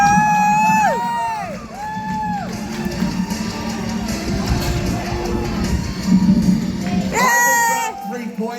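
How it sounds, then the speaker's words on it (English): A crowd cheers and whoops for a knight during a jousting display at Kryal Castle, a sustained mass of voices under and around a speaking announcer, with some sliding whistle-like tones at the start and end. "Let's give a cheer first for Sir Gregory!"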